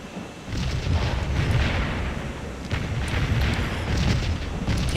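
Artillery bombardment in the Napoleonic-era battle game Scourge of War: a steady, loud wash of distant cannon booms and rumbling blasts that overlap continuously, with sharper reports rising now and then out of the roar.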